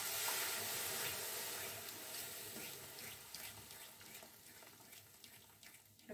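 Water runs steadily from a tap or jug into a steel bowl that held masala for an egg curry, a continuous trickling splash close by that thins out toward the end, with no talking.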